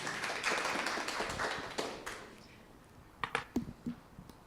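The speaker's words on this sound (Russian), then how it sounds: "Бурный аплодисмент." Audience applause at a diploma project defense, a soft burst of clapping that thins out and dies away, followed by a few scattered taps.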